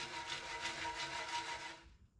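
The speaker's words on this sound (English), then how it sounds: "That's all the old coating that used to be in the gas tank and the rust with it" Loose old coating and rust rattle and rasp inside a Honda ATC 90 gas tank as it is shaken, a close, steady gritty rustle lasting about two seconds before fading.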